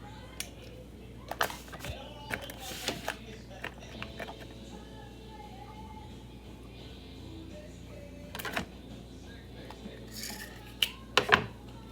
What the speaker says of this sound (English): I'm gonna put the pan on now.